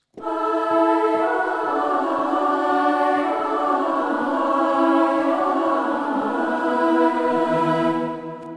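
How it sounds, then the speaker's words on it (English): Sustained synthetic boys' choir voices with an added octave, singing held notes in harmony, smooth and continuous, swelling in then fading at the end, with no speech. "I use a vocal boys choir with an additional octave."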